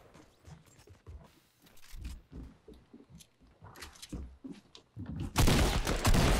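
Gunfire in the Fortnite battle royale game, scattered close shots and mechanical clatter in uneven bursts, ending in a loud sustained noisy blast.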